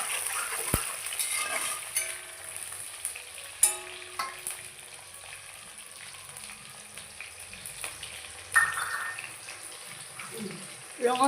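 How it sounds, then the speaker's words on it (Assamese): Onion frying in oil in a pot for duck curry, a soft crackling sizzle with sporadic sharp clanks of a utensil against the pan and some water-like splashing, fairly quiet throughout. "ৰঙচুৱাকৈ ভাজি ল'ব লাগিব পিঁয়াজটো।"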